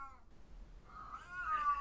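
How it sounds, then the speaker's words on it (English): Cat giving a soft, chirpy meow, a couple of faint rising and falling calls, quiet and close with no speech. "she has a little chirpy meow, so it's not urgent sounding"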